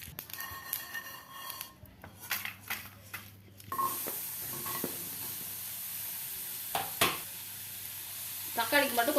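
Sesame seeds land in hot oil for an Indian eggplant kulambu. After scattered clatter and quiet kitchen noises, a bright crackling sizzle bursts in and holds steadily, with a few sharp pops near the end.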